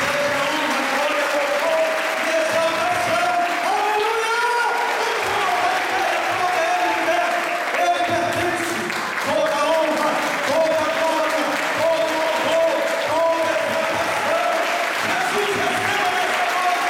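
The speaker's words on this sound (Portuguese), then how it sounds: "Aplauda Jesus." A church congregation applauding during an anniversary service and pastors' consecration at a Baptist church, a dense, continuous wash of clapping and crowd noise. Voices sing or shout over it, and it stays sustained and loud throughout.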